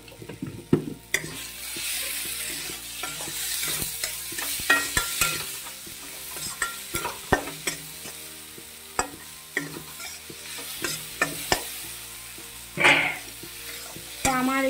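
Chana masala fries in a pan with a steady sizzle while a spoon scrapes and stirs repeatedly, giving close, irregular clinks and taps over the cooking hiss.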